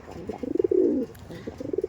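Ready-to-breed pigeons in a loft give soft, rolling coos up close, a couple of bubbling phrases with a short pause between, alone without talk.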